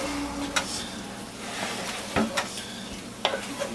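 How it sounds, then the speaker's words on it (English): Eggs frying in a pan with potatoes, sausage, onion and cheese, stirred with a utensil: a steady, close sizzle broken by a few brief scraping stirs, with no voices. "So we just want to kind of stir it until it's"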